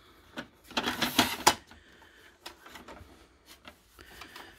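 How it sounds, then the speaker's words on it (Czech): A Canon Pixma G3430 inkjet printer powers on, giving a close whirring, clattering mechanical burst followed by scattered clicks and softer internal movements. "Takhle se tiskárna zapne."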